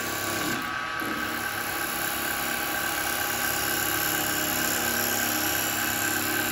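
A wood lathe spins a wooden bowl while a carbide chisel cuts it, producing a continuous, even drone with a steady tonal hum, slight scraping texture early on, and no talk.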